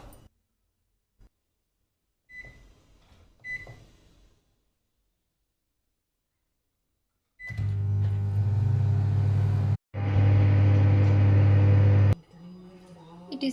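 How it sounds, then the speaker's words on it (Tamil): An oven running while a chocolate brownie bakes: after quiet with a few faint clatters, a loud, steady, close hum with whirring noise sets in for several seconds, breaks briefly, then continues before dropping to a softer hum. "இப்போ இதை வந்து அவனில் 2 minutes வேக வச்சு எடுத்துக்கலாம்"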